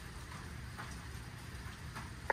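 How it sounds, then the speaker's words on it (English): Steady rain pours down as a continuous hiss, with faint patters on a surface and no voices. "it is pouring rain right now"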